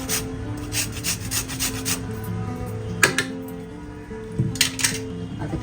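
Lemon peel scraped against a grater for shrimp kebab, a run of quick rasping strokes in a steady rhythm that stops briefly, then resumes with a louder scrape and a few more short passes.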